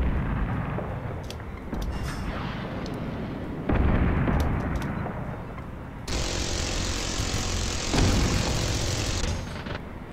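Missile strikes exploding one after another in the combat flight game Nuclear Option, loud, continuous rumbling blasts that build into a sustained roar with a hissing rush in the latter half.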